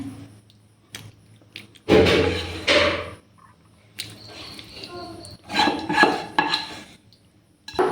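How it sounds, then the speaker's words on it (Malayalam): Soybean roast being scooped and transferred into a bowl, with loud intermittent clinks and scrapes of a spoon against metal and ceramic in separate bursts, close by. "സോയാബീൻ റോസ്റ്റ് റെഡി ആയിട്ടുണ്ടെങ്കിൽ നമുക്കിത് ഒരു ബോളിലേക്ക് മാറ്റി കൊടുക്കുക"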